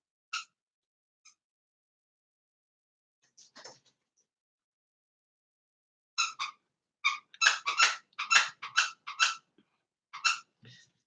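A puppy chews a squeaky toy, producing scattered high squeaks that grow into a rapid cluster of sharp, close squeaks before tapering off, with silence between bursts.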